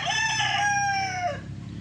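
A Spartan Black gamefowl rooster lets out one loud, close crow, rising then trailing off over about a second and a half, alone without any voices.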